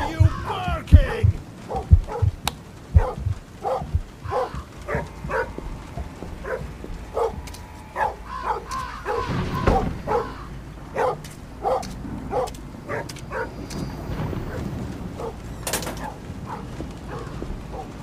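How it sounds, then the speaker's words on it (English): Repeated yipping barks from a dog inside the METEL Horror Escape video game, sharp evenly spaced bursts over a low background, moderately loud and close throughout. "why the hell are you barking?"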